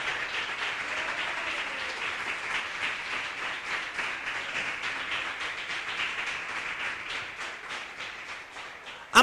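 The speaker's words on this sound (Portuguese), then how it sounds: "Palmas para Jesus por essa palavra gloriosa." A church congregation applauds in a sustained, dense wash of clapping lasting several seconds, steady and moderately loud, fading slightly toward the close.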